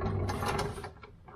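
A ratchet undoing 17mm transmission bolts on a Subaru WRX during a transmission removal, a brief close burst of rapid clicking.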